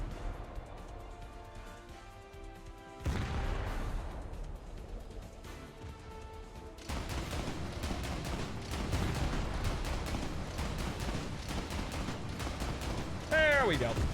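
Gunfire in War Thunder while shooting at an enemy, a dense continuous rattle of shots with loud booms that swell from about three seconds on and hold steady to the end, with game noise and talk mixed underneath.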